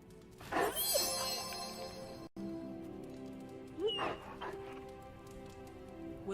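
Charlie the puppy from the video game Marvel Midnight Suns whimpers in two short high yelping bursts a few seconds apart, over a soft steady background hum.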